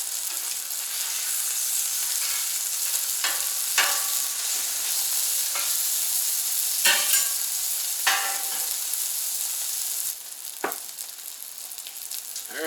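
Sausages sizzle steadily on a Camp Chef FTG600 flat top grill, a loud, constant frying hiss with occasional pops and spatula scrapes, close up and without talk.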